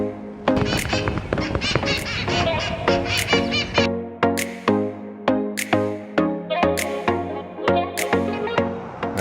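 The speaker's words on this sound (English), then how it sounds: "So we have wild parrots all over the place." Wild green parrots call in a noisy flock outdoors, with loud, close, harsh squawks and chatters repeating in quick irregular bursts that thin into separate sharp cries, with no talking.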